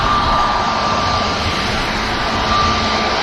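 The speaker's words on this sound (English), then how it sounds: "EasyJet climbs on." EasyJet airliner climbing out from Manchester Airport, a loud, steady broadband jet roar that holds at full strength for the whole stretch, near and unbroken, with no voices.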